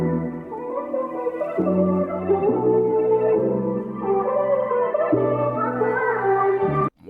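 A pitched-up melodic loop, raised 600 cents and time-stretched to 136 BPM for a vibey hip-hop beat, plays alone as sustained harmonic chords that shift every second or so, steady and full before cutting off at the end.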